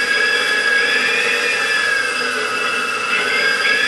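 Enova electric motor in a BMW E31 840Ci EV conversion revving hard toward 6000 RPM, a loud steady high-pitched whine with rising tonal harmonics and no pauses.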